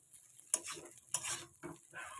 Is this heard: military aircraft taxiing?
no